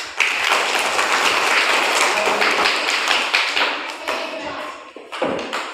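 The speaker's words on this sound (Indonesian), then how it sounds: "tepuk tangan untuk kita semua" A classroom of students claps hands in a lively burst, dense at first and thinning into scattered claps and a few taps toward the end.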